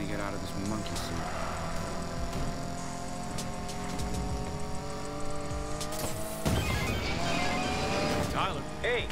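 Car engine in the racing game Need for Speed Payback, revving with rising pitch through the gears, then a sharper surge of engine and tire noise near the end, with a voice speaking over it.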